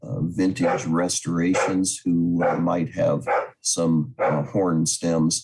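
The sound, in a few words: dog barking in the background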